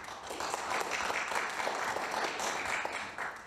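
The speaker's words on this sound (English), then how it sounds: "Please, a round of applause for Dave." An audience at the Martin Luther King Lecture for Human Rights Day gives a round of applause, an even, sustained patter of many hands heard from some distance.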